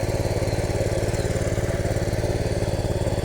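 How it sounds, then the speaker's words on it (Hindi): A tractor engine runs steadily in a village farm field, a loud, close, even chugging throb with no break or change in pace. "लगा रहा है ट्रैक्टर"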